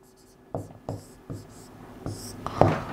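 Chalk or marker strokes on a classroom board during a Hindi alphabet lesson, a series of distinct scratching taps at irregular intervals, close and clear, with faint background noise and a louder scrape near the end.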